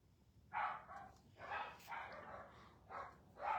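Several dogs bark in short bursts indoors, five or six separate yips and barks spread across a few seconds, moderately near and fairly loud against a quiet room.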